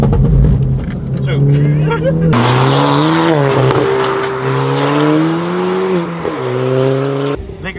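A Ford Fiesta ST200 with a Milltek exhaust revs loudly nearby, the engine note rising and falling with crackles and pops between throttle blips.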